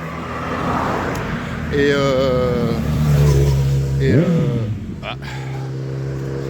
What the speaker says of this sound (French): Et vous voyez, il y a des véhicules de drift.